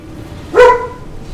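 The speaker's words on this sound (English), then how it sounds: "The dog's being loud." A single short bark from a real dog in the room, loud and close, rising sharply and fading quickly against faint background hum.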